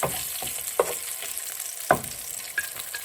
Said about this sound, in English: we're gonna wait for the garlic to roast a little bit